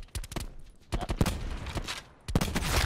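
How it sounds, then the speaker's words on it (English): Rapid automatic gunfire in a first-person shooter video game, fast bursts of loud cracking shots that stop and start across the clip with brief pauses between volleys. "this gun shoots so fucking fast"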